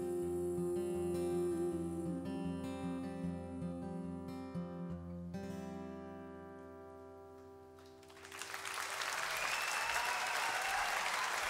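A concert at Paradiso ends as sustained music gives way to loud audience applause and crowd noise that fills the final few seconds.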